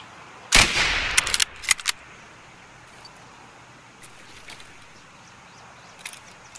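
Gunfire in the video game Escape From Tarkov rings out as a quick burst of sharp shots at the start, then scattered fainter reports and clicks over a quiet background.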